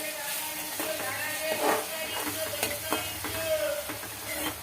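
A spoon stirs green chili paste in a frying pan over a medium flame while making green brinjal bharta (ringan no olo), giving a steady sizzle with scraping strokes, and a voice talks intermittently over it.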